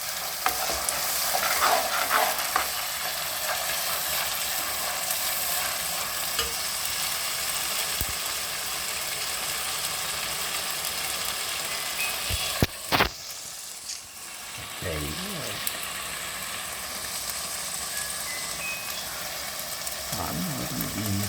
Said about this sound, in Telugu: మనం దీన్ని బాగా ఫ్రై చేసుకున్నామండి.